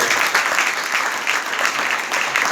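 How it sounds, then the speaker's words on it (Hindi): An audience claps in a sustained, dense burst that stays loud and even throughout, honouring a guest. "आदरणीय अरविंद कुमार शर्मा सर के सम्मान में एक बार जोरदार ताली"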